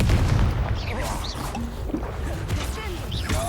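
Confringo spell blasts and combat effects in the Hogwarts Legacy video game, a steady dense roar of booms and crackles with low rumble throughout, with game voices speaking over it.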